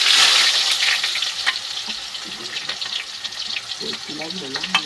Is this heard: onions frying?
yes